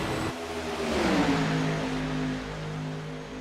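A Cadillac prototype race car engine from the iRacing video game, ringing out around the Daytona oval, rising and sustained at moderate loudness with a smooth, droning note.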